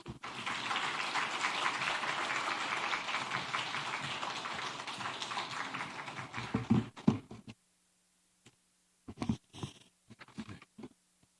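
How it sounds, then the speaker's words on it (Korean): A church congregation claps steadily to welcome a pastor to the pulpit, a sustained roomful of applause that cuts off after about six seconds, leaving a few scattered claps and quiet. "나오실 때 박수로 환영하겠습니다."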